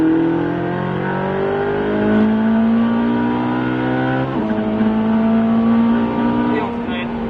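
A race car on the Albi circuit accelerates hard and close, its engine note climbing steadily. It breaks briefly at a gear change, then rises again, loud and continuous, with a voice speaking over it.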